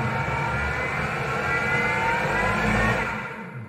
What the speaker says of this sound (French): je vais mixer un petit peu pour bien mixer les copeaux et mélanger